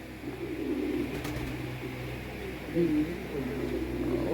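Pigeons coo softly in low, rolling calls, repeated a few times against a quiet background hum.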